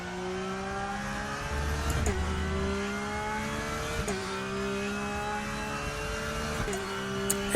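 A race car in the RaceRoom simulator laps Donington Park, its engine droning with rising revs and sharp gear-shift dips roughly every two seconds, steady and close with no talking.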